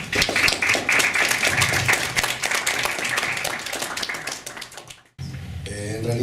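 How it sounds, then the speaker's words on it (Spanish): Loud audience applause fills a hall at a national civil law conference, dense clapping running steadily for about five seconds before breaking off, followed by a brief stretch of a voice beginning to talk. "Les pido para él un fuerte aplauso."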